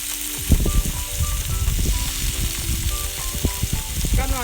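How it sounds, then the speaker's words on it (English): Loud, continuous sizzling of beef on a hot grill, with crackling pops and occasional scraping clinks throughout. "when it's really, really hot, you can hear that sizzling noise"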